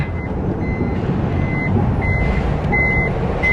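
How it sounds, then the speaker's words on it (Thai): A Toyota Sienta's power sliding door closes to a series of evenly spaced electronic warning beeps, sharp and fairly loud, repeating over a low steady rumble. "สามารถปิดประตูไฟฟ้าได้จากปุ่มนี้ค่ะ"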